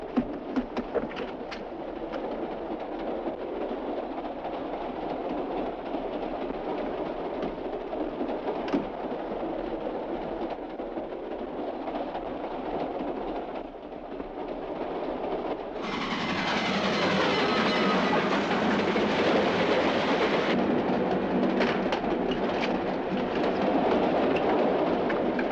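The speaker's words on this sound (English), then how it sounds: "The train's doing about 65 miles an hour right now." A train rolling along rails at about 65 mph gives a steady, close rumble with faint rhythmic clatter. A brighter, louder rushing swell rises partway through and holds to the end.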